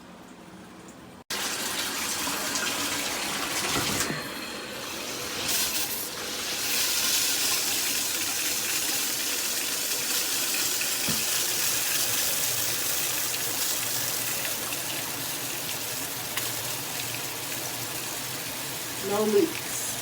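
Filtered high-pressure StoneStream shower head running steadily, a broad continuous hiss of spraying water lasting throughout, fairly close, with a brief handling sound near the end.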